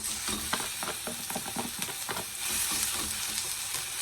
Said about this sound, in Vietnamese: Mình tỏi thơm vàng rồi mình cho thịt vô mình xào.